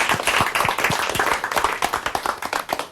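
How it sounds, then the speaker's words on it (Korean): Studio audience at a Korean lecture show claps warmly for a guest who wore new jeans bought in Itaewon, a dense run of close, sharp handclaps continuing steadily without talk. "박수 한번 주십시오."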